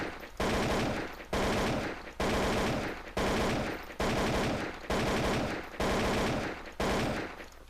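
Video game gunfire in controlled tapping bursts at a target, eight sharp loud volleys at a steady rhythm with brief gaps between, close and alone.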